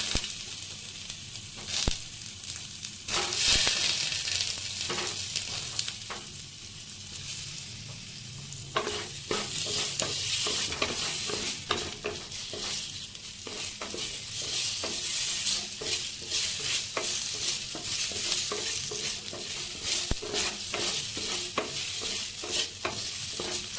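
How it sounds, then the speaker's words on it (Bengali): Potatoes fry in a pan of hot oil left over from frying eggs, a steady, close sizzle with stirring scrapes and crackles throughout, no voices. "তারপর আমরা এই তেলের মধ্যেই যেখানে ডিম ভেজেছিলাম ওই তেলের মধ্যেই আমরা আলুগুলো ভেজে নেব"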